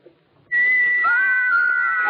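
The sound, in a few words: carved wooden figures whistling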